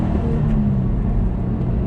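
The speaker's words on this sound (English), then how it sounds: "just gonna let the revs climb, shift" Engine of a 2019 Subaru BRZ Series Gray climbing in revs through the gears, a steady loud rumbling drone close up with no talk over it.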